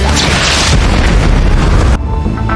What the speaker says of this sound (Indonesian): Chester menghancurkan dinding dengan senjatanya. Atas ledakan itu, hard drive yang berada di tangan Joy pun terlempar